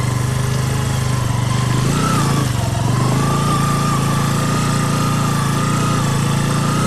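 A Bajaj Boxer 125 motorcycle engine drones loudly and steadily as the rear wheel spins in mud off-road, its pitch wavering slightly while the rider struggles for traction.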